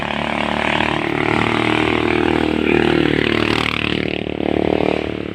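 A new motorcycle on a ride home from Caburan hums steadily up close, a continuous engine drone with slight revving swells and some clatter.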